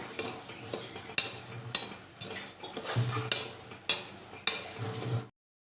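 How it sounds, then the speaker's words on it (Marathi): Chickpeas being stirred and roasted in hot salt in a pan, making repeated bursts of scraping, rattling clatter at a steady rhythm, close and fairly loud with no voices. "मीठ कडकडीचं आपलं पाहिजे मीठ कडकडीचं आपलं आपला हरभर टाकू करून हलवायचं सारखं"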